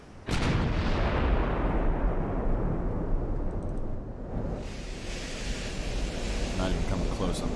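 Warship gunfire in the video game Ultimate Admiral: Dreadnoughts, a heavy cannon blast opening into a long roaring, rumbling wash of noise that fades and then swells again, loud and sustained with no talk.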